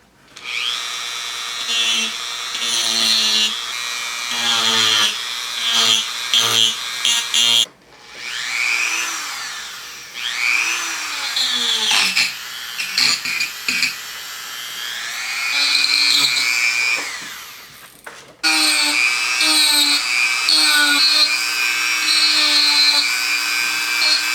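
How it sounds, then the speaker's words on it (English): A Dremel rotary tool fitted with a large burr carves into wood, whining loudly and up close in long runs that rise and fall in pitch as it bites and eases off, with short pauses between passes. "I'm also using my Dremel with this big burr. It's really aggressive, so just be gentle with it because this will cut right through the wood."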